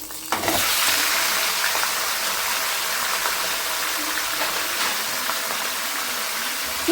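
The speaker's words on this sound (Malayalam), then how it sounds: "ചിക്കൻ ചേർത്ത് നമുക്ക് ഇളക്കാം" Chicken pieces fry in a pan while being stirred, a loud continuous sizzle with a hiss that swells at the start, plus scattered scraping stir knocks throughout.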